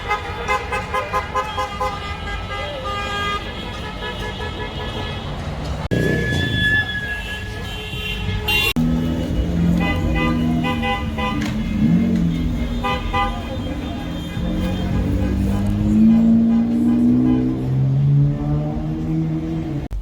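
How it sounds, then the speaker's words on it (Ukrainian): Many car horns honk at once in a street celebration of Biden's election win, with long sustained blasts and overlapping toots from several vehicles, loud and close, over traffic noise and some voices. "Все машины гудят."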